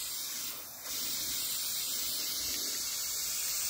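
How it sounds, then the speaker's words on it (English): A spray can lays a light mist coat of paint on a Barbie limo, making a continuous close hiss with a brief dip near the start. "you just wanna do a light mist, because this is our first layer"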